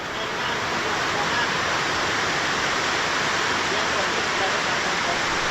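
Heavy rain falls steadily in a Thai village, a dense even hiss of broadband noise that stays loud and unbroken throughout, with no voices over it.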